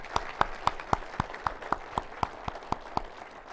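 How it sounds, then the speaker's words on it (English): An audience at a city's State of the City presentation gives a round of applause for road crews, with evenly spaced, rhythmic claps, moderately close and modest in level, and no talking. "Let's give them a round of applause on a tough month."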